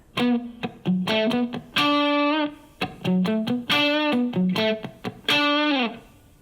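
A distorted electric guitar jams a lively minor pentatonic riff, quick picked notes and sustained bends, with short gaps between phrases, loud and close.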